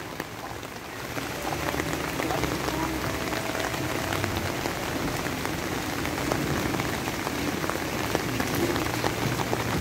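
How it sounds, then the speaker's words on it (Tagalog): Heavy rain pours steadily onto surfaces during a delivery driver's rounds, a dense continuous hiss with scattered drops and splashes, loud and constant throughout with no one talking. "Lakas kasi ng ulan"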